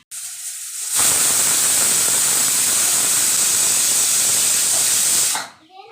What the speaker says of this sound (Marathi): कुकरला झाकण लावून 3 शिट्ट्या करून घ्यायच्या आहे